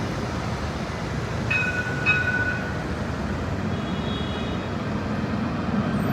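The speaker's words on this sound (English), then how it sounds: "I didn't expect to see trams coming down the main street of Casablanca." Tram passing along the main street of Casablanca, a low continuous rumble with brief metallic squeals and tones partway through, heard amid city traffic.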